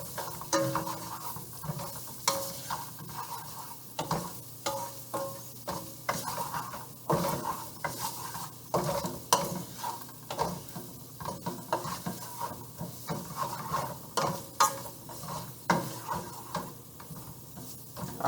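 A stuffing mixture stirred in a pan as it cooks: soft frying sizzle under repeated spoon scrapes and light clinks against the pan, steady and close for the whole stretch.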